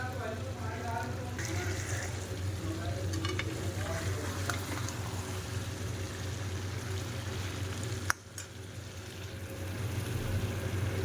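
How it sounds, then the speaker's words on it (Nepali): Chicken curry sizzles steadily in a hot pan as crushed garlic and ginger are added, with a constant frying hiss, some stirring scrapes and a sharp clank near the end. "अब म कुटेको लसुन और अदुवा एड गर्छु लास्टमा।"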